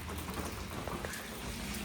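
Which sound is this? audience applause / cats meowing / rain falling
rain falling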